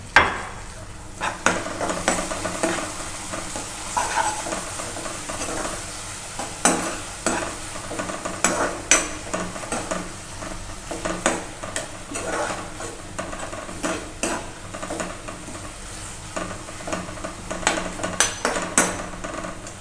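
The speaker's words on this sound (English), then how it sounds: "Then we will stir this all again." Veg manchurian stirred in a frying pan, with a steady hiss of frying under repeated scraping and clattering spoon strokes, some loud and sharp, continuing throughout.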